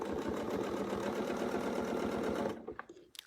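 A sewing machine stitches a quilt in a fast, steady mechanical whir that runs close and loud for about two and a half seconds, then stops abruptly, leaving a few faint handling clicks.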